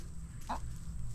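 A single brief cluck from a chicken in a backyard run, fully fenced and roofed with quarter-inch hardware cloth, set against a steady low outdoor rumble.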